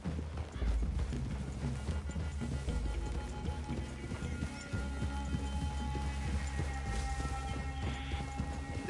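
Horses' hooves clip-clop steadily in the Red Dead Redemption video game, a running rhythm heard over continuous music and outdoor game ambience, with an occasional whinny.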